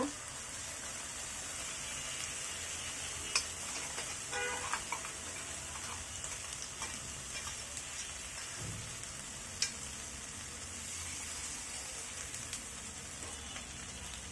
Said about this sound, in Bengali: এটাকেও আমি একইভাবে কষিয়ে নেব যতক্ষণ পর্যন্ত না এর কাঁচা গন্ধটা দূর হয়